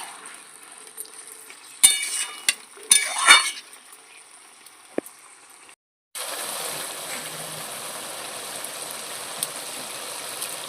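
Taro leaves (kochur shak) with green chilies being stirred in a pan, a few scraping clinks of the spoon early on, then a steady even sizzle of frying that carries on alone after a short pause.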